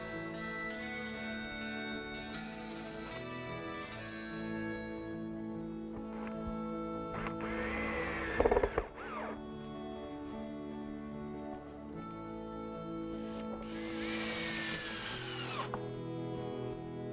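Power drill driving fasteners into the seat of a wooden stump table, with a couple of bursts of whirring tool noise over a steady background hum in a workshop.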